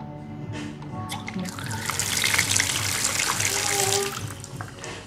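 A bathroom faucet in a luxury five-star hotel in Phuket is turned on, and water runs steadily for a few seconds before easing off, with a voice faintly in the background.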